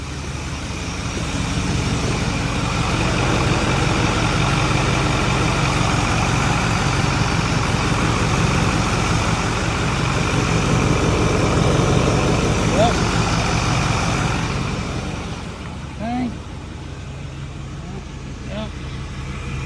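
A Ford 6.4 Powerstroke diesel with new billet turbo wheels and suspected bad turbo seals idles with a loud, steady rumble close by, then quiets noticeably near the end.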